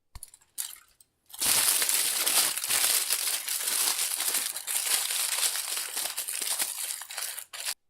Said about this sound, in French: Amusez-vous avec du papier d'alu.